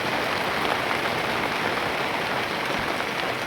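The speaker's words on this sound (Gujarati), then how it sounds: "હવે જોરદાર ચાલુ થઈ ગયો છે. સારો એવો આવે છે." Strong downpour during a July monsoon storm on farmland, a loud, unbroken roar of rain striking the ground and nearby surfaces, uniform throughout.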